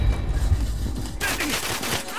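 Rapid bursts of AK-47 fire in GoldenEye 007: Reloaded, a dense fusillade of gunshots that starts after a second and stays loud, with a faint voice in the background.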